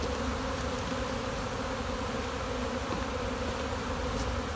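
A steady, dense buzzing of many honeybees, about half a cup scooped for a mite alcohol wash, fills the whole stretch, close and continuous, with no voices.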